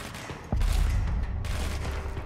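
Gunfire from a battery-draining weapon in the video game Control, a sharp burst that opens into a sustained, loud rumbling volley with booming low end lasting to the end.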